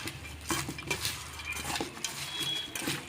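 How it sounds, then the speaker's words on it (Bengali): Snack batter made with cornflour, salt and Maggi masala is worked in a bowl, giving a run of clinking, scraping knocks against the dish with small gaps between strokes, close and fairly clear. "এর মধ্যে আমি কর্নফ্লাওয়ার দিয়ে দিলাম, নুন দিয়ে দিলাম স্বাদ মতো, ম্যাগি মশলা দিয়ে দিলাম। এটা ভালো করে মেখে নেব।"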